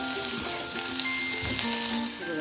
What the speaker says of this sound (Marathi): आता 2-3 मिनिटं परतून घेऊया आणि मग भेंडी काढून घेऊया एका भांड्यात